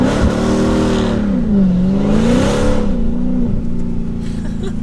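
A 935 HP Dodge Charger Hellcat accelerates at half throttle, its loud close engine note rising and falling in pitch as revs climb and shift, with no voices over it.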